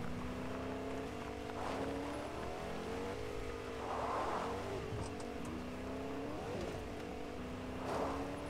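Truck in Fortnite driving along steadily, its engine drone rising and falling through gear-like pitch sweeps, with brief bursts of rumble around the wheels; fairly close and continuous, no talking.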